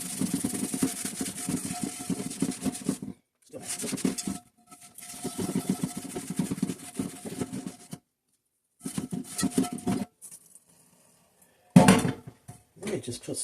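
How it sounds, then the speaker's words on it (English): A grimy cast iron pan is scrubbed with soap and water in bursts of loud, close, gritty rubbing strokes, broken by several short silent pauses. "And now I'm going to scrub it real good again."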